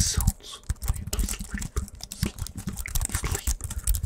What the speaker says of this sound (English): Typing. Typing. Gentle keyboard.